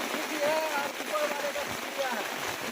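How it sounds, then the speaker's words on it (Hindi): Heavy rain pours steadily in Madhubani, a dense, even wash of close hiss and patter with faint voices under it. "आज मधुबनी में झमाझम बारिश हो रही है"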